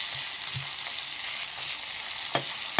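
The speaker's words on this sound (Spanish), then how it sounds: "Mientras está friendo aquí el tomate con la cebolla" Tomato and onion frying together in a pan for a stew of green beans with potatoes, a steady, close sizzle running throughout with a few brief stirring knocks.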